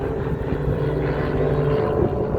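Aerobatic competition airplane flying at EAA AirVenture Oshkosh air show, a steady propeller-engine drone with a sustained low tone, moderately loud and continuous throughout without any talk.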